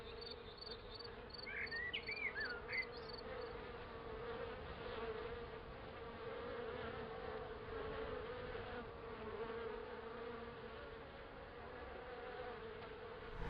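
Bees buzz around clay bee skeps in a steady, faint, continuous hum that holds for the whole stretch, with a few brief higher chirps early on.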